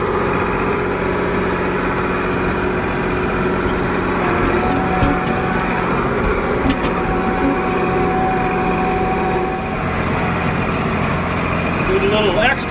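A tractor engine runs steadily in the cab while chisel plowing a field, a loud continuous drone with a constant hum throughout, slightly shifting in tone near the end, and a voice talks over it.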